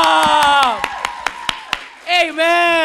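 A church congregation at a Sunday worship service claps in a quick run of sharp, evenly spaced claps that rings out between stretches of a loud voice speaking.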